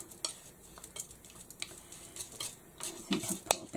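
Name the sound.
mixing black and white paint together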